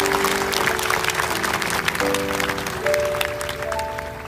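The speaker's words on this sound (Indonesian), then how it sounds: "Kasih tepuk tangan untuk Tuhan." A church congregation claps during a sermon, steady dense applause with sustained musical tones, likely keyboard, running underneath throughout.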